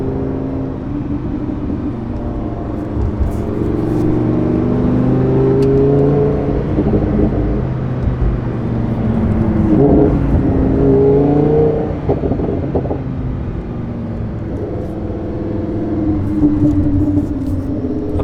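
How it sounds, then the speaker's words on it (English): A naturally aspirated V10 car engine in sports mode rumbles and revs steadily, swelling in pitch at intervals over a continuous low drone, close and loud, with no talking. "The V10, the naturally aspirated V10, is just like an orchestra, like a symphony."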